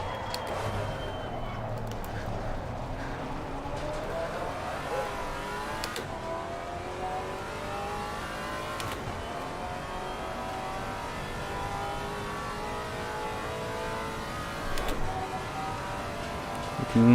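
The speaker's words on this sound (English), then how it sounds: "I am driving this car right at the ragged edge of performance." Maserati GT4 race car in Assetto Corsa Competizione at Watkins Glen, its engine droning steadily as it revs up and down through repeated gear shifts, loud and continuous throughout.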